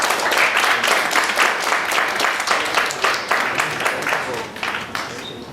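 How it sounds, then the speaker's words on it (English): An audience at a company law and share-demat meeting gives a round of applause for the speaker, a dense patter of claps that holds strong, then thins and fades near the end. "Can we have a round of applause to the sir?"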